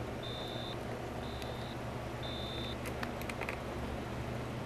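Three quiet electronic alarm beeps at regular intervals from a faulty Micronta 63-813 alarm clock, followed by a few soft clicks, over constant background noise.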